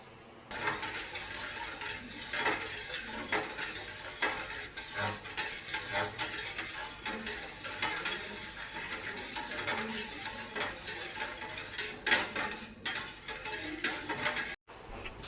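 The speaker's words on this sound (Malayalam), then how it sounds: "അപ്പോഴത്തേക്കൊന്നും അടിയിൽ പിടിക്കാതിരിക്കാനാണ് ഞാനിങ്ങനെ ഇളക്കിക്കൊണ്ടിരിക്കുന്നത്" Steady scraping and clinking of a spoon stirring palada payasam in a pan, repeated rhythmically over a low background hiss.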